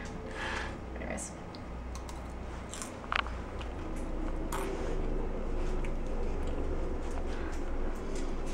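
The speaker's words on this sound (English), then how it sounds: "I'm gonna try a crispy one for the video effect because we want it to be crunchy." Close crunchy bites and chewing of crispy cinnamon zucchini fries, a few sharp crackles standing out over a quiet, steady background.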